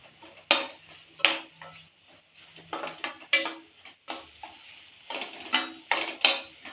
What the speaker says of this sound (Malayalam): ഇത് നല്ലോണം ഫ്രൈ ആക്കി എടുക്കാം.